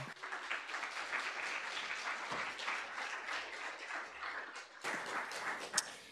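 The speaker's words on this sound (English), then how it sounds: "If we give them a round of applause as well." Quiet, fairly distant applause from a student senate audience welcoming a new class of Phase 1 SGA interns at Kansas State, a continuous patter of many hands with one sharper clap near the end.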